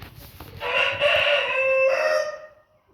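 A rooster crows loudly and close, one long drawn-out call, with faint clucking before it.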